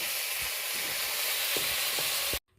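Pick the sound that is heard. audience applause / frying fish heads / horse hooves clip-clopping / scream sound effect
frying fish heads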